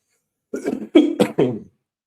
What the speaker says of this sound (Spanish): Perdón que tengo que toser.